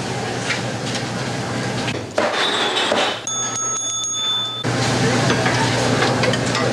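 Food fries and sizzles steadily in a busy restaurant kitchen in Ancaster on a holiday, with clattering utensils, a bell-like chime and indistinct background noise throughout.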